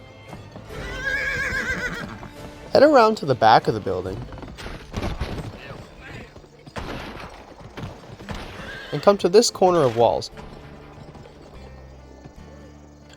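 Hooves clip-clop and a horse neighs loudly several times in the 2005 Western video game GUN. Someone talks over it throughout.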